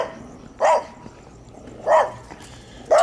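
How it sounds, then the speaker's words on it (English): Three sharp barks from small dogs close by, evenly spaced about a second apart with quiet gaps between, and no talking. "Got a couple little dogs beside me who wish I weren't here."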